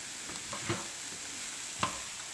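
Cauliflower rice pilaf being stirred in a pan, a couple of soft scraping clicks over a faint steady sizzle, close and quiet with no voices.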